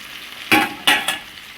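Saltfish sautés in a pan, with three short bursts of sizzling and stirring over a low background hiss.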